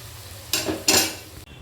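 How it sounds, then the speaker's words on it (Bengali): Fish fingers frying in a pan of hot oil, with two sharp bursts of sizzling as pieces are stirred or lifted, over a low steady background hiss, close and fairly loud. "বাকিগুলো কিন্তু সুন্দরভাবে ভাজা হয়ে এসেছে"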